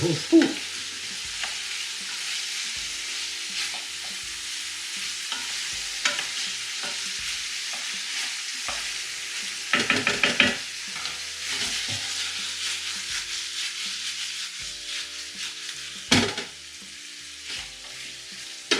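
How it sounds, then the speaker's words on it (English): Garlic sizzles and fries in a pan with tomato puree stirred in, a steady crackling hiss that runs the whole time, punctuated by scraping stirs and a few louder bursts, with no voices. "Now we continue to cook this garlic."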